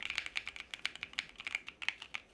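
Someone types on a NuPhy mechanical computer keyboard, giving a quick, uneven run of crisp clicky keystrokes, close up and fairly quiet, with no voices over it.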